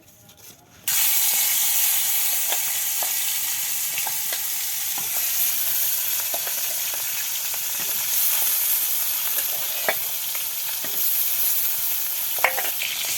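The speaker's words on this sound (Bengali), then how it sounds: "আর এদিকে তেল গরম হয়ে গিয়েছে, এবার মেখে রাখা মাছগুলো দিয়ে দেবে।" Turmeric, salt and chili-rubbed fish drops into hot oil in a wok, and a loud sudden sizzle starts and then holds as a steady close frying hiss with occasional pops, with no talking.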